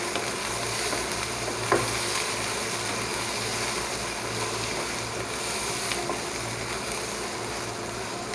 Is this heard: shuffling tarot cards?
no